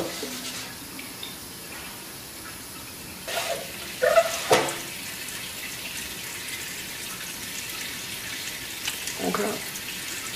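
Water runs steadily from a tap, as a wash over a metallographic sample during polishing. It makes a continuous hiss with a few louder splashing surges partway through.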